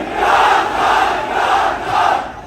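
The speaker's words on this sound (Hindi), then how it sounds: "अब मेरी भरपूर तालियों में मेरे साथ आवाज लगाइए" A large crowd at a political rally roars and shouts in unison, loud swelling waves of massed voices rising and falling in a chanting rhythm.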